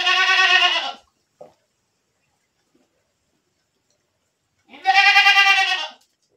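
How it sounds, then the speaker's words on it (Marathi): Goats bleat in two loud, close calls, one at the start and another after a few seconds of near silence, during farm work in a village setting. "आता शेळी सोडून देऊ आपण."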